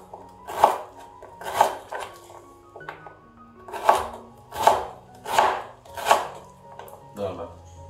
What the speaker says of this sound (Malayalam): ഇതിൻ്റെ സെൻറ്ററിൽ നിന്ന് കട്ട് ചെയ്തതിന് ശേഷം ഇതേപോലെ ഒന്ന് സ്ലൈസ് ചെയ്യാം